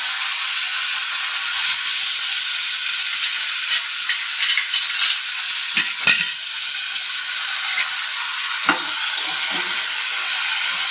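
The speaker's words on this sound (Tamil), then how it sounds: "இந்த வெங்காயத்தை வதக்குவோம்" Small onions are sautéed in oil for a fish curry, giving a loud continuous sizzle up close, with occasional scrapes and taps of a spoon stirring the pan.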